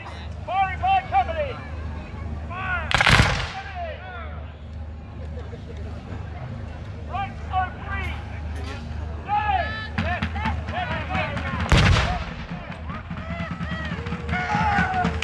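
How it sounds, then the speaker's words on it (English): Two loud cannon blasts boom at a Civil War battle reenactment, one early and one later, with a crowd chattering and talking continuously in between. "They've got their cannon."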